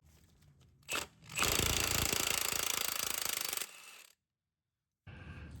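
An impact gun hammers on the front driveshaft nut of a Jeep Gladiator, a close, loud, rapid rattling burst of about two seconds, followed by a short whir and silence.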